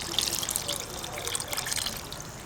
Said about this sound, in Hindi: इसमें अराउंड 1 गिलास पानी डालना है